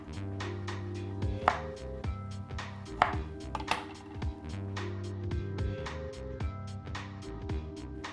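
A knife cuts through a hardened, plant-based, gluten-free brown rice cake (hyeomi garaetteok) at an angle, giving several crisp, separate chopping thuds spaced a second or so apart over steady background music.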